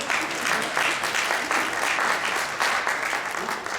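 An audience at a holiday barbershop harmony show bursts into steady, dense clapping, loud and continuous for a few seconds.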